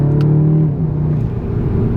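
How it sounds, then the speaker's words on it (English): A Volkswagen Golf GTI TCR, heard from inside, accelerates hard with a rising engine drone and a whirring turbo building boost, loud and close, with a brief shift in tone partway through. "the turbo noises are actually really nice. You feel and hear how the boost comes up in this car"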